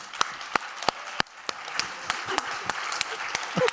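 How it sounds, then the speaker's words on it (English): Scattered, sharp claps from an audience give a round of applause for a trophy winner, starting with a few loud isolated hits and thickening into a steady ripple of clapping. "let's have a round of applause for Stella as Inga awards her this magnificent trophy."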